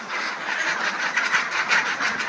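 A flock of laying ducks quacks loudly and continuously at close range, with many overlapping calls forming a dense, chattering din.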